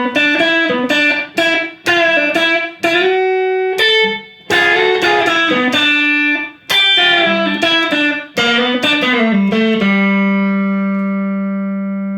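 Electric guitar plays the second half of a song's solo, a run of clear, ringing single notes and bends with short gaps, ending on a long sustained note that fades out.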